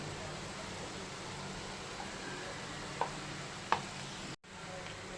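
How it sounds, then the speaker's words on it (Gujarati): Even, steady hiss of crisp snack pieces deep-frying in a pan of oil on medium heat, moderately quiet, with a couple of faint clicks and a brief dropout near the end. "હવે આપણે આને તળી લઈશું"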